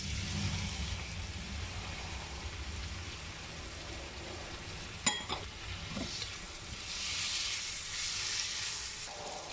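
Chopped tomatoes hit a hot pan of spiny gourd and curry leaves, a steady close hiss of frying with a brief clatter and stirring midway before the sizzle swells again.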